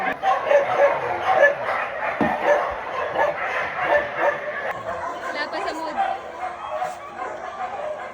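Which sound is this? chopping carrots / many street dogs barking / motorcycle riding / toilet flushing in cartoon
many street dogs barking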